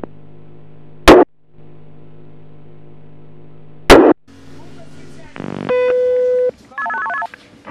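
A telephone is dialed to reach emergency number 101 during an apartment fire response, with tonal beeps and a ringback pattern, two sharp bursts of static, and then a series of clear dialing tones close up.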